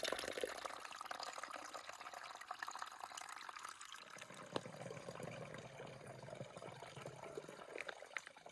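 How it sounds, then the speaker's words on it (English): Water from a small mountain spring beside a trail road near Clingmans Dome is collected into a container, giving a steady close trickle and splash that continues throughout. "And we've got a little spring. I'm gonna get some water."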